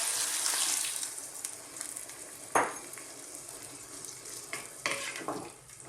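Water poured into a hot pot of camel stew, the meat sizzling and frying loudly as it hits, with scattered clatters and splashes amid the steady crackle.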